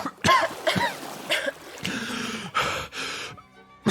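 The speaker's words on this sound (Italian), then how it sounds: "Tossiscono entrambi." Two people cough after nearly drowning in salt water, a series of harsh, ragged coughs and throat-clearing bursts that come close together with short gasping pauses between them.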